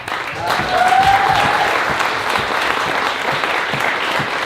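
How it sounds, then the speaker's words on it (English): A room full of people claps steadily, a dense, even burst of applause that holds for several seconds without fading. "please, a good round of applause"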